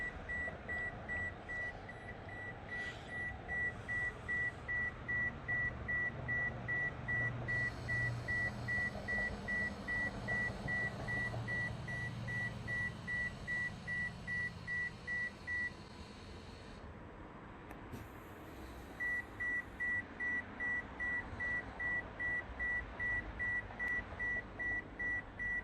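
During an ABS diagnostic procedure on a 2013 Toyota Camry Hybrid, a rapid, steady electronic beeping repeats for a long stretch, stops briefly, then starts again, clear over faint background noise.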